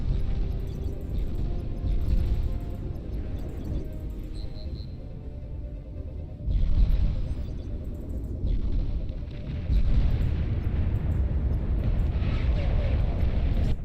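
Nuclear missile launch in the strategy game Beyond All Reason, a deep rolling rumble with roaring surges and a soft alert tone, repeating in swells over a low game background.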